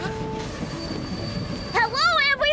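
A cartoon train rolls along rails with steady rumble and squeal, then a loud wavering whistle blasts near the end, close and prominent.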